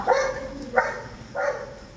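A dog barks four times at a steady pace, sharp and moderately close, with quiet pauses between barks.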